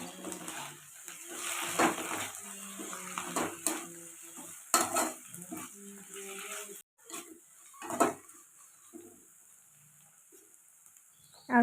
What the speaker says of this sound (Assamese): এতিয়া এইখিনি ভালদৰে লৰাই ভাজি থাকিব লাগিব, যাতে বিলাহীখিনিও সিজি যায় আৰু মাছৰুমখিনি সিজি যোৱালৈকে।